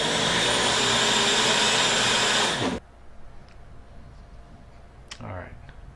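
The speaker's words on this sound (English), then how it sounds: "Just fill up the blender. We're going to puree it, and then we're going to put it right into that pot." A blender runs loud and close, pureeing tomatillos in a steady, high whirring roar for close to three seconds, then stops abruptly, leaving a quiet room with a few faint clicks and a light knock.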